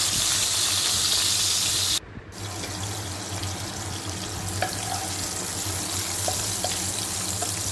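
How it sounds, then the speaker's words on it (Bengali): Capsicum frying in oil in a wok gives a steady, close hiss of sizzling that carries on without a break, with a few faint clicks and no talking. "এখন এর মধ্যে আমি ওই তেলের মধ্যে ক্যাপসিকামগুলো ভেজে নিচ্ছি।"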